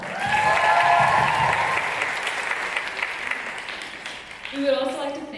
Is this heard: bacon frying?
no